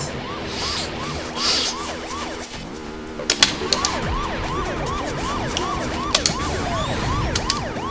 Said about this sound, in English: turn on those sirens.